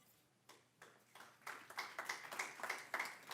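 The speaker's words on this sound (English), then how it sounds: "There will be no clapping." Scattered claps from an audience at a school board meeting, faint and sparse at first, then building into a quicker, denser patter of applause in a quiet room.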